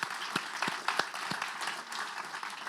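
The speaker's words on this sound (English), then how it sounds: "Let's give Efrat a round of applause as well." An audience at a Jewish refugee commemoration applauds for a few seconds, a dense, fairly close patter of hands punctuated by several sharp, louder individual claps.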